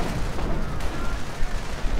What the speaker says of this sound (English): Panther firing away as well.